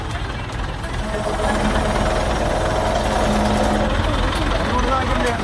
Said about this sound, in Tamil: இதனைத் தொடர்ந்து ட்ரில்லர் கிரெயின் உதவியுடன் கோவில் நுழைவாயிலை மற்ற கடைகளுக்கு சேதாரம் ஏற்படாத வண்ணம் இடித்தனர்